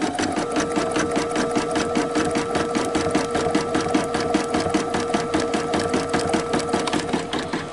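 Embroidery machine stitching a name onto a plush Easter bunny, a fast, steady needle rhythm hammering away without pause, close and loud throughout.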